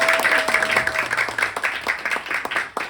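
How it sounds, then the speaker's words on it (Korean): Classroom-style audience at a winter church retreat session clapping in a loose, rhythmic pattern, moderately loud, with individual claps audible and a faint tone lingering early on. "네, 박수."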